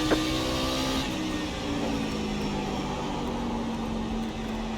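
Racing truck lapping North Wilkesboro Speedway in the A:SRC Super Truck Series sim, a steady sustained engine drone with a held pitch that shifts slightly as it runs, loud and close throughout with no voices.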